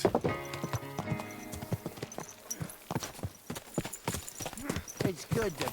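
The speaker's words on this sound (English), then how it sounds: "Easy, good horse." A horse's hooves clop along in Kingdom Come: Deliverance II, regular close footfalls continuing under game dialogue and a brief musical swell at the start.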